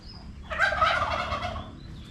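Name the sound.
ducks and chickens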